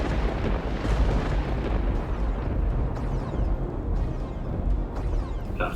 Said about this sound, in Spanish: La artillería norteamericana comenzaba el asedio al molino